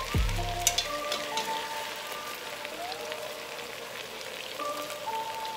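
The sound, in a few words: chicken browning and frying in oil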